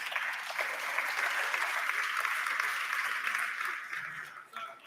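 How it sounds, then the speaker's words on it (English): Congress audience breaking into applause for a guest, a dense, even wash of clapping that holds steady and then tapers off near the end. "Big applause for Vlad."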